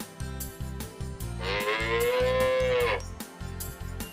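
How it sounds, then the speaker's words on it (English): A cow lows on a dairy farm in one long, loud moo held for about a second and a half, set against a steady, rhythmic musical backing. "Is it a cow?"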